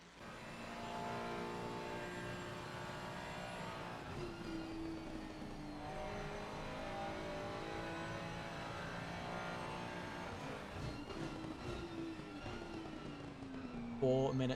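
Race cars lapping Suzuka in a console racing game, engines droning and shifting pitch in a continuous loud roar as several cars run together, with a voice talking over them.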